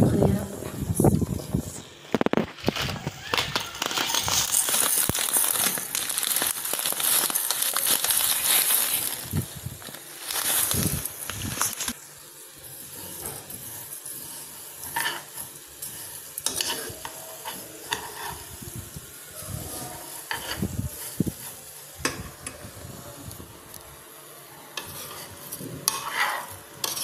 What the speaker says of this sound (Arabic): درت هذه نص باطه ونخليها تحمص.